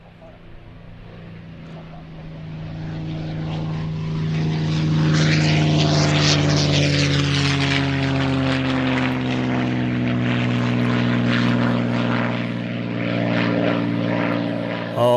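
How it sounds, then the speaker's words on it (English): A P-51 Mustang propeller aircraft rolls by at Duxford, its piston engine droning loudly with a rising then falling pitch as it passes close, sustained and growing louder before easing off. "Mustang rolling by the sound of it."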